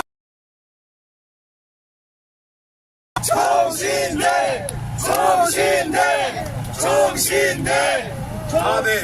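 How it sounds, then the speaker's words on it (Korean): After a stretch of silence, a crowd of seminary students at a university rally bursts into loud cheering and shouting with applause, voices swelling and falling in waves. "우리 학생들이 큰 박수 한번 보내주세요."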